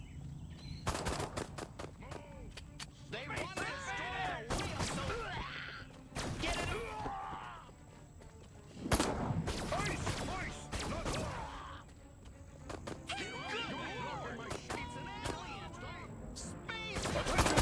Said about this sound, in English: So I'm unlocking your disintegrator ray. Try it out on the fuzz.